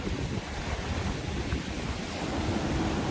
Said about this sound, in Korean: 파도가 많이 높습니다